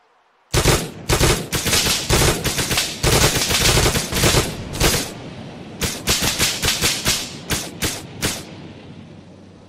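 Rapid gunfire in the Miscreated game, a long string of loud, close shots in quick bursts with brief pauses, thinning toward the end.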